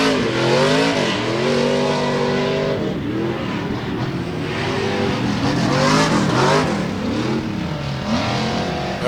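Pro 2 short course race trucks racing past at a fairground dirt track, loud engines rising and falling in pitch as they accelerate, shift and sweep by, with roaring revs overlapping throughout.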